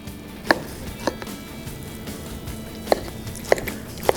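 A knife cutting through smoked beef brisket and striking a cutting board, five sharp, distinct thuds spaced irregularly over low background noise.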